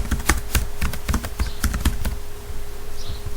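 Rapid tapping on a computer keyboard while entering text into a spreadsheet, a close, dry run of uneven keystrokes with short pauses, no talking.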